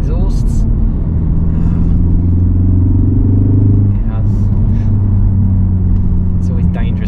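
Exhaust note of a 2023 facelift Ford Focus ST Track Pack while driving, a steady loud low engine drone from inside the cabin with a brief dip in revs midway, and talk occurring over it.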